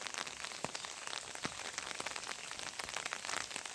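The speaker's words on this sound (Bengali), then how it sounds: "গুড়ি গুড়ি বৃষ্টি হচ্ছে" Light drizzle falling over an open village field, a dense, even patter of fine drops close by, steady for the whole stretch with no voices.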